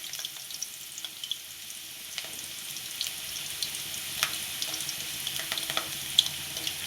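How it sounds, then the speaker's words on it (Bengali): Potatoes fry in hot oil in a pan, the start of a Bengali goat curry. A steady close sizzle runs throughout with scattered small pops and crackles and no talking. "ঝোল করার জন্য আমি আলু দিয়ে দিলাম তেলে।"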